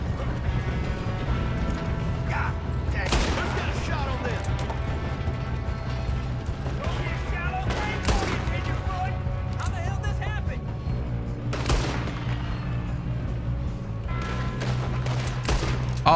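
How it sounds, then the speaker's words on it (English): Bullets fly and ricochet in a Red Dead Redemption 2 gunfight: a dense volley of gunshots with sharp metallic pings and whines, some close and some farther off, carrying over a steady low background rumble. "the sound of the bullets ricocheting is so nice"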